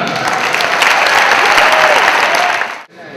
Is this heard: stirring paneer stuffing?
no